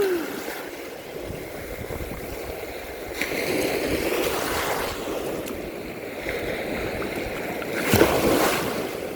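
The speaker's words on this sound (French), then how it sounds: "il y a un peu de vague" Waves break and wash on a beach, rolling surges swelling and receding every few seconds over a constant wind-blown rush, with one sharper splash near the end.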